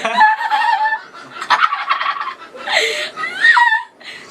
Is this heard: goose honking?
yes